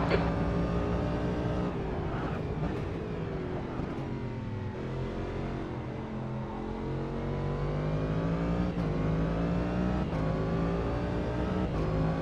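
Race car engines in the sim racing game Automobilista 2, a steady loud drone of revving motors rising and dropping through gear changes, with faint higher tones from other cars nearby.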